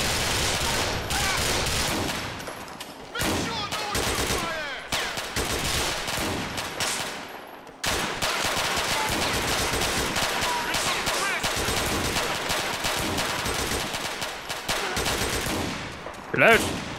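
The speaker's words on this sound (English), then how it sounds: "Oh, I've been shot by someone." Dense, rapid gunfire rattles almost nonstop through a GTA IV shootout, with machine-gun bursts and a short gap midway, loud and close throughout.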